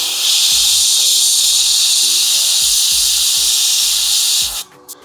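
An airbrush sprays paint onto a miniature while highlighting, giving a steady close hiss that runs for about four and a half seconds, then cuts off abruptly into near silence.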